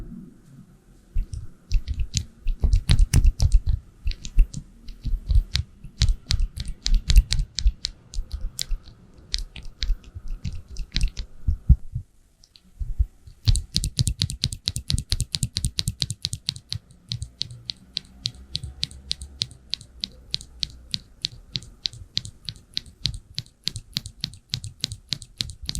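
Typing on an Epomaker TH80 Theory mechanical keyboard fitted with Gateron Pro Black switches: dense, close bursts of clacking keystrokes with a short pause midway, then a steady rapid run of brighter clicks.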